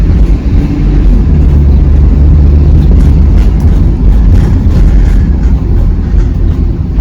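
Loud, continuous low rumble and road drone from inside a moving 2007 Chevy Express van, its engine steady without obvious breaks or stumbles.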